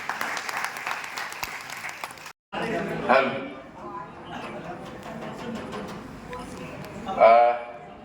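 Audience applause at a retirement honour ceremony welcoming an official guest, a clapping crowd under loud speech from an announcer, broken by a brief silence and then further bursts of clapping.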